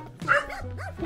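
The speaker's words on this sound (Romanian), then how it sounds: "Rapid și lătrat de câini." Dogs in a Transylvanian village barking and yipping close by, a couple of short yelps and whining barks in quick succession over a steady outdoor background, with no talk.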